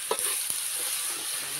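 Tomatoes being stirred as they fry in a pan with a little salt, a steady soft sizzle with a few light scraping strokes of the spoon, close and continuous.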